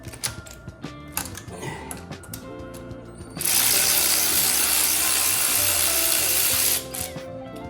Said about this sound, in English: this little right hand drive ratchet seems to work good for me.